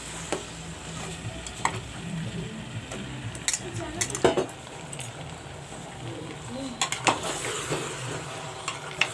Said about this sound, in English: Now I will let the mutton fry with the